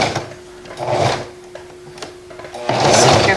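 Sewing machine stitching pleats on a fabric face mask, short whirring runs of needle motion separated by pauses, close and fairly loud, with a longer burst at the end.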